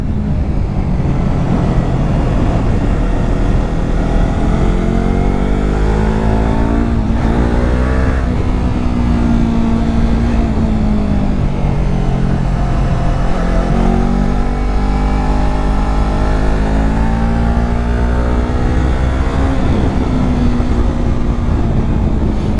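Yamaha R3 motorcycle engine droning loudly and steadily while riding, with rising and falling revs and wind noise throughout, no voices heard.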